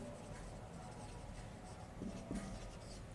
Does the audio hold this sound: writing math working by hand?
yes